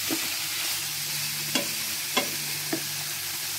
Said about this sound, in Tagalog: gisa lang natin yung ating bawang tsaka sibuya